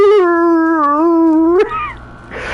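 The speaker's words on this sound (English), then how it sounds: "A dog could bark." A dog gives a long, wavering howl close by, then a short high yip, followed by a burst of rough noise.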